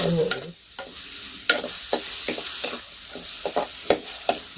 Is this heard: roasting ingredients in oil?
yes